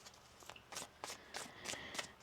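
A deck of tarot cards being shuffled by hand in a quiet room, with about six quick, crisp riffling bursts in a regular rhythm, close and fairly soft, with no talking.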